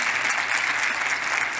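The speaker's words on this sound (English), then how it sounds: "So give yourself one more hand clap," Graduation audience applauding, a dense steady wash of many hands clapping at once throughout, moderately loud with no voices standing out.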